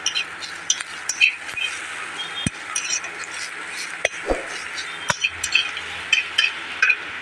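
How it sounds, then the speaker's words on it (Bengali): Mushrooms frying in a pan with a soft sizzle underneath while a utensil stirs them, giving repeated light metallic clinks and scrapes at an irregular pace. "আর একটুক্ষণ ভাজবো এটাকে।"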